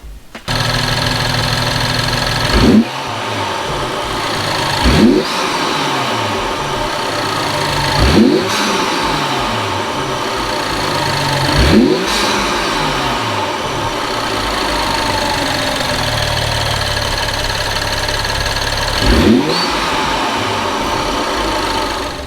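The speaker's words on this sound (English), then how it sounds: "I'm gonna start it up to listen to the sound of the intake." A BMW engine fitted with a new aftermarket intake runs steadily close by, with about five sharp revs blipping up and falling back over the idle, and no talking.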